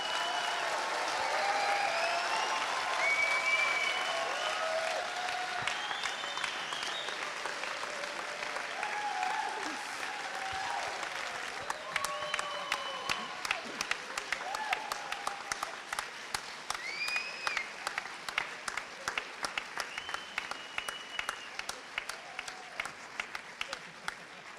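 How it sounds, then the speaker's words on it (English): An outdoor concert audience applauds at length, dense clapping with voices and whistles mixed in early, then thinning toward individual sharp claps that continue steadily. "maybe if you give a big applause"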